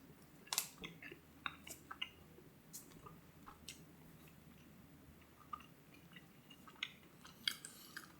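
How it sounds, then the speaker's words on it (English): A mouthful of Chipotle brisket being chewed, heard as soft, irregular wet clicks and squishes, close to the mic but faint, with no talking. "Let me get another bite of this, another brisket here."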